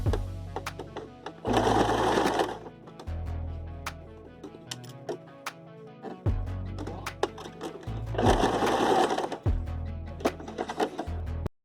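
A sewing machine stitches the seam of a small fabric-scrap pincushion, running in loud, steady bursts of whirring and clatter that stop and restart several times, separated by quieter pauses with soft handling noises.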